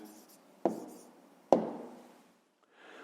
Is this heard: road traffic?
no